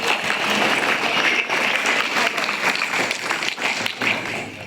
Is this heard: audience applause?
yes